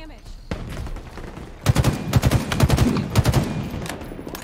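Gunfire from the video game Halo Infinite: a quiet opening click, then from about 1.7 seconds a dense run of loud, rapid shots in clustered bursts, heard alongside speech.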